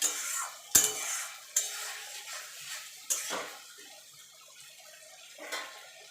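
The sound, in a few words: sautéing ginger garlic paste in a pan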